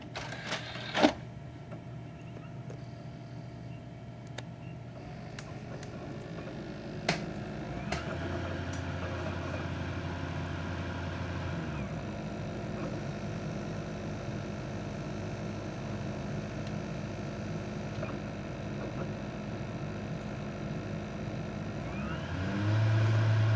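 A steady low electronic hum and whir with faint mechanical clicks from an Xbox 360 Slim running Halo 3, continuous and fairly quiet, swelling slightly louder near the end.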